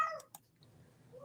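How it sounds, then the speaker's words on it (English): A house cat meows from somewhere behind, a few short faint cries rising over a quiet room, heard alone with no talk. "I hear my cat behind me."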